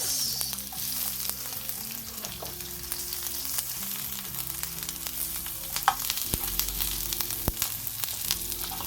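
Sliced onions sizzling in hot cooking oil in a pan for a simple pechay dish, a steady crackling fry with occasional sharp pops and stirring clatter, close and without talk.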